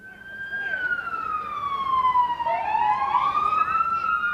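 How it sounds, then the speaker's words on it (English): Several emergency vehicle sirens wail at a Santa Claus parade in New Hamburg, overlapping rising and falling tones that swell loud and close, with no talk over them. "Lots of emergency sirens happening right now."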